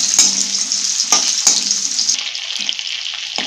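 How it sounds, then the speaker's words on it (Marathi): Soaked sago pearls salted and roasting in a hot pan, a steady close sizzle with a few sharp stirring scrapes and clicks throughout. "असं भाजून घ्यायचं 2 मिनिट."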